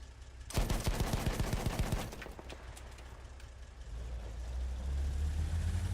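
A tank cannon fires in a video game: a sharp loud blast followed by a rapid rattling burst of repeated impacts, then a low engine rumble that swells toward the end.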